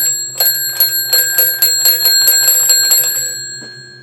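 A small, very loud bell alarm clock ringing close by in rapid, evenly spaced metallic strikes for about three and a half seconds, then stopping.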